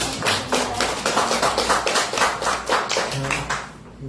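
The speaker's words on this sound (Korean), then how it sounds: "박수 한번" An audience at a talk salon forum breaks into brisk applause, many hands clapping close and loud in a steady flurry before it tapers off at the end.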